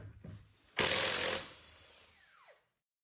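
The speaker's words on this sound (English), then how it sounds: "These lug nuts are on at 150 foot-pounds, but this Milwaukee impact makes short work of that." A Milwaukee impact wrench fitted with a 22 mm socket breaks loose a Ford F150 lug nut torqued to 150 foot-pounds: a few short ticks, then a loud close burst of hammering whir that spins down and winds off.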